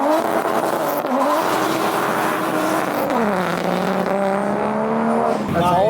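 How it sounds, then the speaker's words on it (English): A drift car with a 1JZ engine revs loud and close in a winter drift setting, its tone climbing and sweeping between gears with a short-shifted change midway, while people talk over it. "it just sounds like 1JZ."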